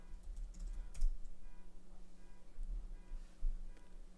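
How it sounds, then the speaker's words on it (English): Typing on a computer keyboard, a quick run of soft close key clicks with a few louder taps, steady and unaccompanied by talk. "let's type it in"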